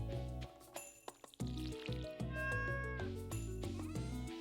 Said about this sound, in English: And my cat Miso